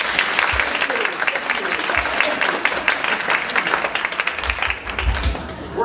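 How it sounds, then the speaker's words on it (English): University audience standing and clapping hands together in a steady burst of applause, dense and continuous for several seconds with faint voices underneath. "I'd like you to clap your hands exactly 25 times"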